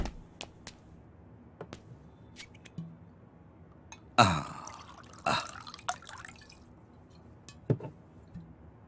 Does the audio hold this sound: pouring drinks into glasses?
yes